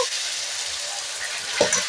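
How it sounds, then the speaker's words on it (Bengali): A spice paste of chili powder, ginger paste and cumin paste, with a splash of water, fries in a pan with a soft, even sizzle and a brief clink of a utensil near the end. "মশলা ভাজা হয়ে গেছে"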